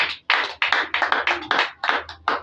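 Applause from a church congregation, bursts of clapping rising and falling in uneven waves over roughly two and a half seconds, close and fairly loud with no voices over it.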